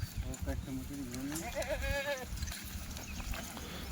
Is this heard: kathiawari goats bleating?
yes